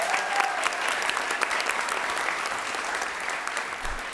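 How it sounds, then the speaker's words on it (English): An audience at a school board meeting applauds a student honored for the Virginia Senior Honor Choir, a dense, steady round of clapping that carries on for several seconds with no voices over it. "Let's give him a big round of applause."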